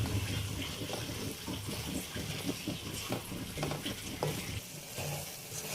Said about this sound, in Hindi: दही डाल के भी हम इसको थोड़ा सा भूनेंगे 2 से 3 मिनट तक